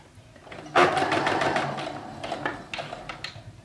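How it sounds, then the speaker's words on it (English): A sewing machine runs in a steady whirring burst as it stitches a fabric seam, close and clear, slowing and stopping briefly near the end. "I'm gonna stitch to that first line and I'm just gonna backstitch the whole way"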